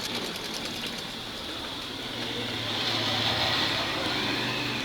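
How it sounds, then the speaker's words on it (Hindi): A sewing machine stitches a new piece of cloth, making a continuous rapid whirring and clatter that holds steady and swells slightly louder toward the end. "ये मैंने नया कपड़ा लिया और इसकी मैं आपके सामने सिलाई लगा रहा हूँ"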